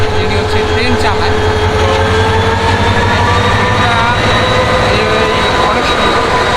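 An intercity diesel train on the Mohanganj Express route pulls out of a station, with a steady rumbling engine drone and rolling rail noise close by, continuous and loud.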